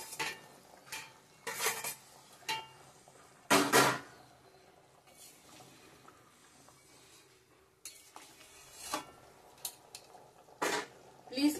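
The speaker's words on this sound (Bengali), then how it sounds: "এখন পনিরগুলো ছেড়ে দিব" Soft paneer pieces go into a pan of small-potato and pea curry, with a spoon clattering and scraping against the metal pan in scattered bursts and a faint sizzle in the quieter gaps.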